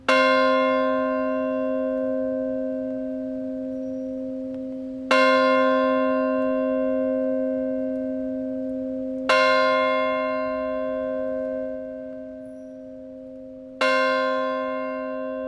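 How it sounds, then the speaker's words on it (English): A large ceremonial bell rung outdoors strikes four times, roughly every four to five seconds, each stroke ringing out with a rich, sustained metallic hum that slowly decays before the next, recorded alone in the open air. "they invited me out to just listen and record the bell by myself outside of ceremony"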